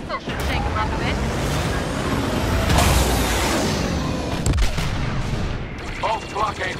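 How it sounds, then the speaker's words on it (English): Dense, rumbling missile explosions and blaster fire fill a Star Wars Battlefront 2 space battle, with loud booming peaks over continuous engine roar and chatter-like voices mixed in. "Missile should shake them up a bit."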